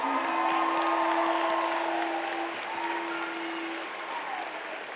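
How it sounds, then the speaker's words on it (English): A high school graduation crowd in Highlands Ranch gives sustained applause, a dense wash of clapping that stays strong, then eases slightly toward the end. "Can we give a nice round of applause out to your parents and our community?"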